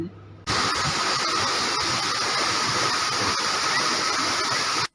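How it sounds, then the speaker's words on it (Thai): Loud continuous roar of rushing water at Tat Kaeng Nyui waterfall in Vang Vieng, Laos, starting abruptly after a brief moment and holding steady until a sudden cut. "น้ำตกตาดแก้งหยุยแห่งนี้เป็นแหล่งท่องเที่ยวแห่งใหม่ของเมืองวังเวียงแขวงเวียงจันทน์"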